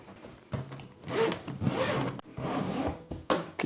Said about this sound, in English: Okay, nice zippers, no catching, which is really nice.